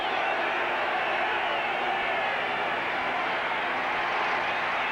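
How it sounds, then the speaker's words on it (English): A stadium crowd at a 1985 Dolphins at Broncos football game in Denver makes a dense, steady roar of massed voices, loud and continuous with no breaks. "This crowd in Denver trying to make it tough on Marino"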